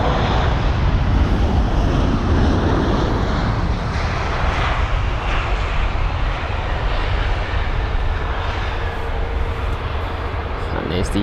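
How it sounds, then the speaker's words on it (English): A TAP jet airliner arriving from Lisbon roars past at Heathrow, a broad, loud, sustained engine rumble that slowly fades over several seconds while someone comments. "And there's the TAP jet."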